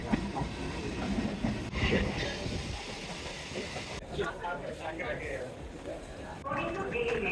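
An Indian passenger express train at Nagapattinam station in Tamil Nadu rumbles and clatters with a hiss of brakes and station noise, while people talk nearby throughout.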